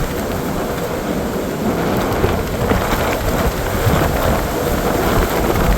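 Strong wind roars across a snowy Appalachian Trail ridge in winter. It is a loud, continuous, gusting rush that buffets close to the recorder for the whole stretch, with no break.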